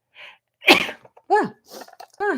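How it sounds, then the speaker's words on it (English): A single loud sneeze bursts out close by, followed by a few short exhaled breaths and small vocal sounds in a quiet indoor setting. "I have to sneeze."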